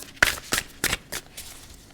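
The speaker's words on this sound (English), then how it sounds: "I might just cut this and pull 6 cards" Moon and Stars tarot deck cut and handled, giving four or five short papery riffling bursts spaced roughly a quarter second apart, crisp and close with no voices.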